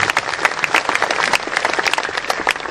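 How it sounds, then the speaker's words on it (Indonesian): Audience applause at a Jakarta government seminar on hospital readiness, a dense steady patter of many hands clapping close by and filling the whole stretch without talk. "Tepuk tangan semua"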